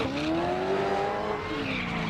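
A drift car at a Drift France competition roars through a run, its engine note sweeping up and down as the tires squeal and skid steadily at moderate distance.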